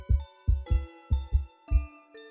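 Intense heartbeat sound effect for a horror animation: six heavy, booming thumps in uneven pairs with a faint tonal ringing hum beneath, loud and close, with no voices.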